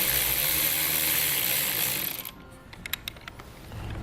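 Ratchet working the center nut off a battery terminal on a 2014 Jeep Wrangler, a close, loud rasp for about two seconds, followed by quieter metallic clicks and handling noises.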